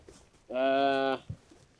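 A show bull on a cattle breeding farm gives a single loud, close moo lasting under a second, with faint background noise around it.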